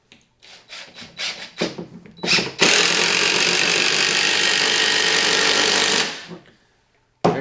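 Power driver sinking a 3-inch screw into a door frame stud: a few short bursts of whirring, then a long, loud steady grinding drive of about three seconds that winds down and stops.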